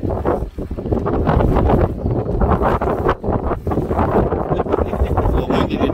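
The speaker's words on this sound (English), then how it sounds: "It's a little windy today." Wind blows steadily over a fishing pier at Buckroe Beach, buffeting the microphone with a loud, continuous rumbling roar that barely lets up for the whole stretch.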